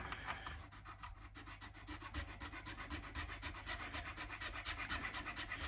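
Close, steady rasping strokes of a Hosco nut slot file cutting into a guitar nut during a Squier Affinity Stratocaster setup, a continuous fine scraping rhythm with no voices.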